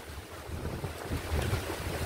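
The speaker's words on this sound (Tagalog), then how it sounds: "Sobrang lakas ng hangin." Strong stormy wind buffets the microphone in a rough, continuous roar, gusting a little louder toward the end.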